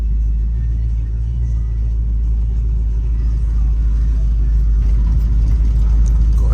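A 1970 Ford Mustang fastback with a 302 V8 drives along with a steady, deep engine rumble. The low drone holds evenly throughout and grows slightly louder toward the end.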